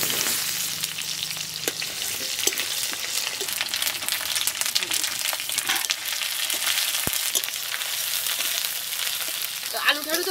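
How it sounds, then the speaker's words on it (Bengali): Potatoes crackle and sizzle steadily in a hot pan of oil over a home kitchen stove, a continuous close frying hiss with scattered pops and small stirring clicks throughout. "আলুগুলো ভাজা হয়ে গেছে"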